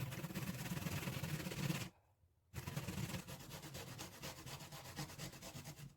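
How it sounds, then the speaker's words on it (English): Raw pumpkin is grated by hand in a steady run of close, rough rubbing scrapes, pausing briefly before resuming, for a Jamaican sweet potato pudding cooked over a wood fire outdoors. "grating the pumpkin."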